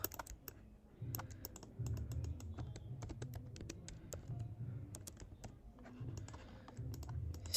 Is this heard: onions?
no